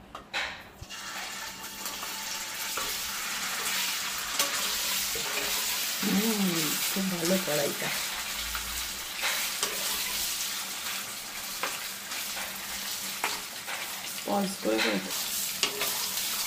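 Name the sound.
paneer pieces frying in a wok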